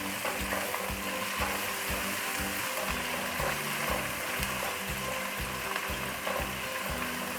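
Onions, cumin, garlic ginger paste and chopped green chillies frying in a pan for chicken curry, a steady close sizzle with scraping and clinking from stirring, no talking.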